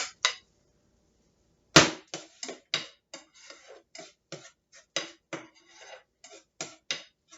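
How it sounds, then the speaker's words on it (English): Scrambled eggs cooking in a pan are stirred with a utensil, giving a close series of sharp, irregular clicks and taps against the pan after a brief pause. "I just mix them up like this and I just stir them up as they cook"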